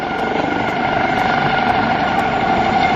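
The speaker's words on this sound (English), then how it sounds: "See how steady that Ryan Seaward is holding that HH-65C Dauphin helicopter for us." HH-65C Dauphin helicopter hovering steadily at an airshow, a loud continuous rotor and engine drone filling the whole stretch with no pauses.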